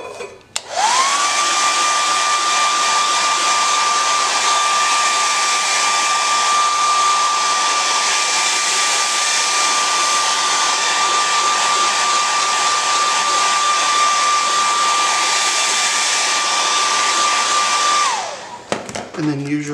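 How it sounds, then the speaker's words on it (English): Blow dryer running to heat a tumbler being powder coated, switching on with a rising whine and then holding a loud steady blowing hum for about seventeen seconds before cutting off, alone with no talk. "now what I'm going to do is I'm going to take my blow dryer"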